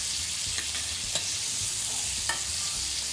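Monkfish roasts in a casserole as unsalted butter is spooned over it, making a continuous close sizzle with a few light metallic spoon taps and scrapes, with no voices.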